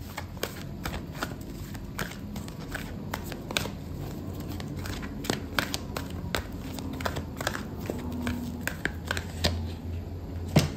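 Tarot cards being shuffled by hand before a card is drawn, with a steady stream of close papery slides and soft snaps over a low room hum, and no talking.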